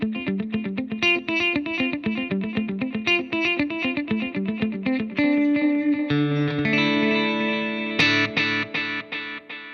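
Electric guitar notes through a Positive Grid Spark amp ring out with a wet, echoing delay and chamber reverb, repeated picked phrases trailing off, steady and fairly loud, no voices.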